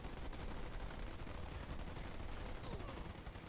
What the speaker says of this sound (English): the AI is just having an open frenzy, just shooting at whatever's in front of itself